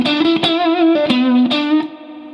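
A distorted electric guitar plays a short phrase from a guitar solo, several picked notes with bends and wavering vibrato, loud and close before dropping to a quieter tail.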